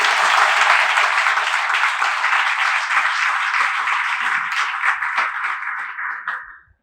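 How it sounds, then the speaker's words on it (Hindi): A crowd of people applauds steadily for several seconds at an event welcoming a student selected for the Air Force, the clapping dense and close, then tapering off quickly at the end. "जोरदार तालियों से एक बार स्वागत करें।"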